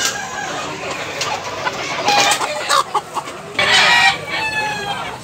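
Chickens and roosters kept for sale in Tabunok, Cebu, cluck close by with repeated loud bursts of crowing. The calls come in irregular clusters with no talking.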